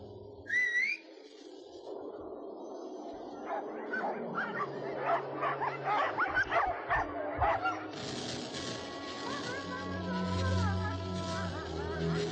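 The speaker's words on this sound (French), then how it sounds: "Allons les chiens, calmez-vous, ça va." Sled dogs in a snowy mountain wilderness bark and yelp in a run of sharp calls, with whistling tones early and a voice speaking over the animals.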